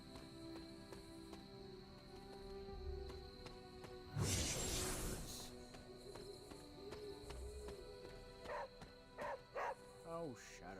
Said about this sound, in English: I'm assuming the dog was barking at something else